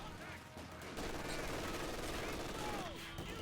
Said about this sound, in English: MG's gonna set up right here. Probably, yep, take shots at the mortar.